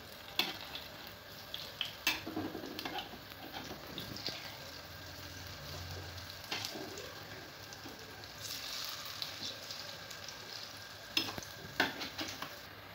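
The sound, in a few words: palm fruit fritters (taler bora) frying in oil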